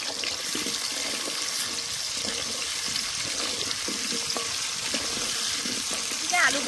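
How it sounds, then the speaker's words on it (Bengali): Potatoes seasoned with salt and turmeric fry in a pan, giving a steady, moderate sizzle with faint clinks and stirring noises in a home kitchen. "আলুগুলো ভাজা হচ্ছে"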